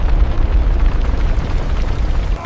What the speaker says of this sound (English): dropping over 26 tons of bombs on a target with no anti-aircraft defense at all